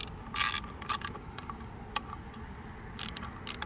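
Socket wrench ratcheting while loosening a bolt on a 2022 Kawasaki KLR650 ADV handguard: several short, crisp clicking bursts spaced irregularly, close and fairly quiet, with no talking.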